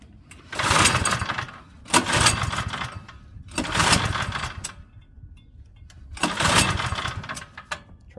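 A Craftsman snowblower's small engine is pull-started on choke, making four separate bursts of cranking and sputtering, each about a second long, with quieter gaps between pulls. It sounds close and moderately loud and never settles into a steady run.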